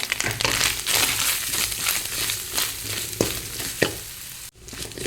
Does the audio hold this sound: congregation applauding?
no